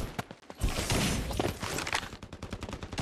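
Rapid gunfire in the shooter game Farlight 84, loud and close, with single shots, then a dense sustained burst of automatic fire followed by fast repeated shots to the end.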